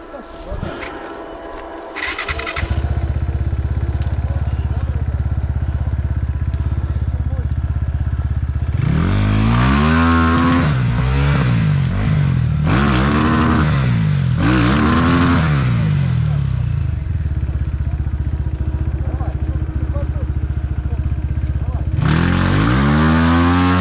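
A motorcycle engine that had been submerged to the handlebars in a stream runs and revs repeatedly, loud rising and falling bursts over a rough idle, with brief pauses between throttle blips and a voice nearby.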